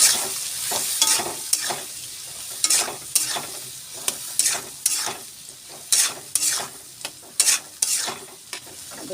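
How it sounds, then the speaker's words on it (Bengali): A spice paste with turmeric sautés in a pan, sizzling steadily up close while a spoon scrapes and stirs in repeated sharp strokes. "এই যে মশলার জলটা দিয়ে দিলাম, মশলাটা দেখালাম তো, হলুদ টলুদ সব দিয়ে এটা কষাবো"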